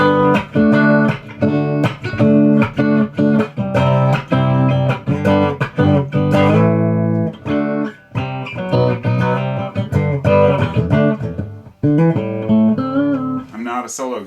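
Handmade electric guitar played through an amp, a choppy run of picked notes and chords with short pauses between phrases, close and fairly loud, slightly out of tune, with no talking.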